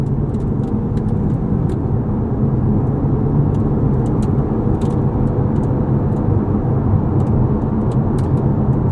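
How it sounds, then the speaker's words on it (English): A 2020 Chevrolet Corvette Stingray convertible with its V8 in tour mode cruises along, a steady, subdued engine and road drone with faint wind whir, continuous and even throughout. "Put into tour mode. The exhaust quiets down substantially."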